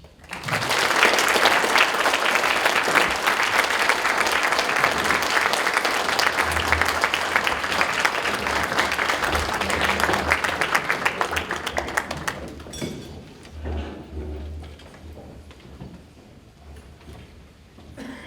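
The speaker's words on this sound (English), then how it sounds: "how about another round of applause for our 4 new inductees to the Athletic Hall of Fame?" A crowd at a university athletic hall of fame induction ceremony gives sustained, loud applause for about twelve seconds, many hands clapping densely, then it fades and low voices and room murmur remain.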